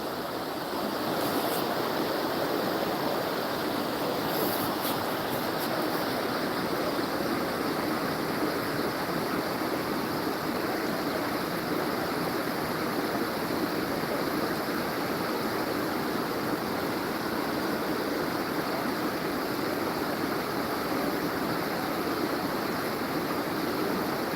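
Salmon River in Pulaski, NY flowing steadily, a continuous loud broadband rush of moving water close by, unbroken for the whole stretch with no talk over it.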